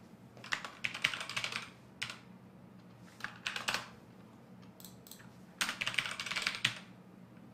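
Bursts of typing on a computer keyboard while entering JavaScript code, clattering keystrokes in several quick runs separated by short pauses, close and fairly quiet over a steady low hum.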